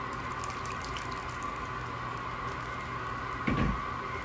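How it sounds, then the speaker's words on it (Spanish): Water is poured into a pot of simmering beef stew: a steady, soft hiss of running liquid with a brief heavier splash near the end. "Vamos a poner un poquito de agua más"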